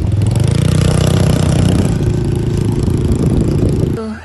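A quad bike engine running while being ridden, a loud, rough, clattering mid-pitched drone that holds steady and then drops away near the end. Close, with wind noise and no talking.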